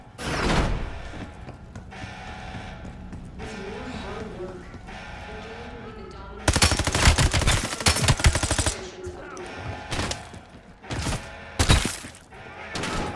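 Gunfire in the Call of Duty: Black Ops 7 video game co-op campaign, with a quiet stretch followed by loud bursts of rapid automatic fire and sharp repeated shots, while a player calls out commands.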